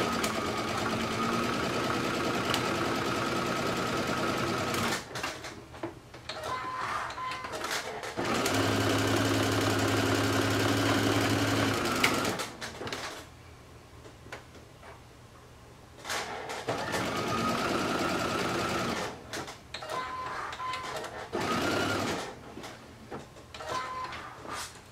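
A sewing machine runs a basting stitch along a swim top in long steady bursts, its rhythmic whirring pausing between runs and the fabric shifting quietly in the gaps.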